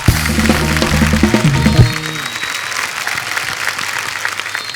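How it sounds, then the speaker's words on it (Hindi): Studio audience applause for guests on a Hindi comedy talk show, loud dense clapping running throughout, with a musical sting playing under it for the first two seconds. "एक बार जोरदार तालियां हमारे सब मेहमानों के लिए।"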